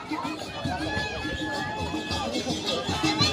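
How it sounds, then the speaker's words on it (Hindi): Dense crowd chatter and hubbub at a crowded village chariot festival, a steady continuous babble of many voices with faint whistles or horns above, close and loud throughout. "बहुत भीड़ है।"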